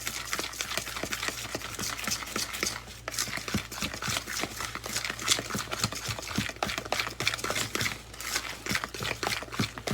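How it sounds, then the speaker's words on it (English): Batter for crab-stuffed corn muffins being mixed briskly in a bowl, with rapid uneven tapping and scraping strokes continuing steadily and close up throughout. "we want to make sure we mix this really, really great"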